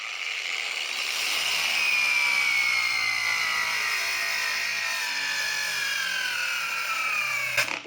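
A YUANSEN YSJM-A2 cordless angle grinder runs steadily under load for the whole stretch, a loud, even motor whine with a gliding tone, alone with no talk.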